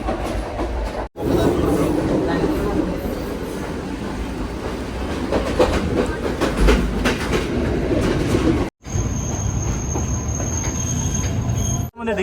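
Sri Lankan passenger train running from Colombo to Kandy, a loud continuous rumble of wheels on rails heard from inside a carriage, with rhythmic clatter, occasional squeal and brief dropouts.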